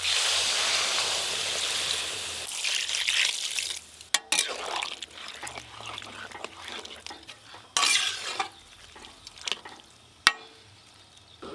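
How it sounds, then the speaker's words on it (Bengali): Water is poured into a pot of potato and soybean curry cooking with spices, with stirring, clinks of utensils and a few sharp knocks against the pan, close and fairly quiet. "মশলার সঙ্গে আলু সয়াবিন ভালো করে কষে নিয়েছি, এবার জল দিয়ে দেবো।"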